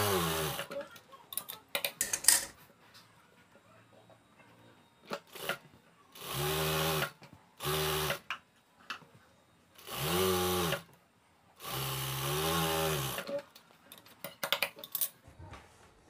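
A sewing machine stitches a pillow cover in several bursts of steady mechanical whirring, separated by pauses with light handling clicks, no talking.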